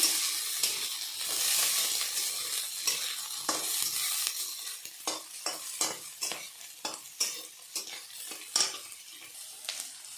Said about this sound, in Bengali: এখন আমি ভেজে নিব সব কিছু।